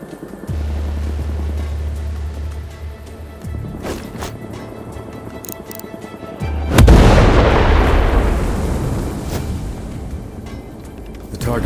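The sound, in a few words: mortar explosions in the video game Sniper Ghost Warrior Contracts 2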